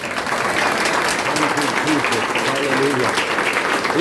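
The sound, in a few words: congregation clapping loudly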